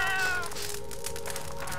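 A pet cat in the dungeon-crawler video game Fate lets out one drawn-out meow over a busy bed of game noise and music, with no talk.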